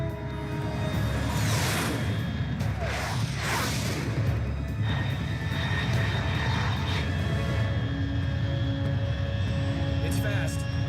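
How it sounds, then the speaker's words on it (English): In Metal Gear Solid 3, a fast aircraft roars past in a continuous, loud engine drone with whooshing swells and a rumbling low end, while radio voices talk over it. "Unidentified aircraft detected."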